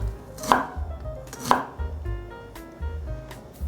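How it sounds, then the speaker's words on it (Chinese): A knife chops through slices of ginger on a cutting board, two sharp, close knocks about a second apart with quieter kitchen sounds between them. "来切3片姜"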